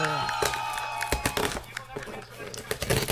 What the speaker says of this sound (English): Give us a cheer now for IDW.